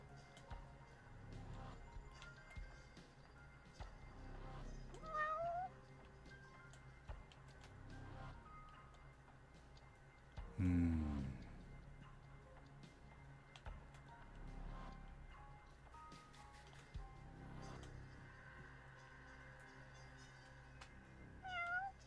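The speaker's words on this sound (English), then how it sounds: "Oh, there are the cats on top of the car." Cats meowing in a video game: a few scattered, faint meows, including one louder mid-clip cry, heard over quiet background game sounds.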